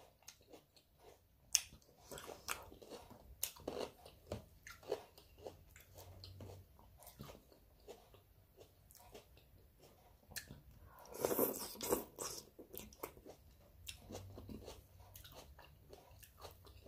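Cucumbers are bitten and chewed close to the mic in a quiet room, with soft wet crunches and mouth sounds coming in irregular bursts and no talking.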